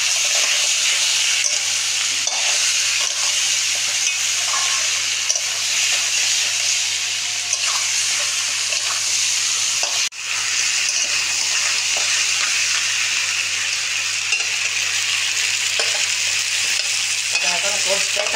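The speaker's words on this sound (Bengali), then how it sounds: "এখন কষতে থাকুক, আমি একটু চাপা দিয়ে দেই।" Food sautéing and frying in a pan, a steady loud sizzle and hiss with occasional stirring scrapes, continuous throughout with no talk.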